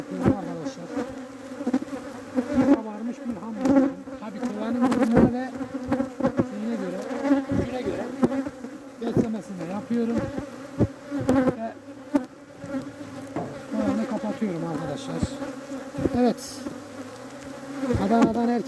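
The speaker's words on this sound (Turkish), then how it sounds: "Arılar beni yemeden ben buradan biraz uzaklaşayım. Felaket sinirlendiler." Agitated honeybees swarm densely around beehives in spring, a loud continuous buzzing with many overlapping wingbeat tones rising and falling close by, with no voices.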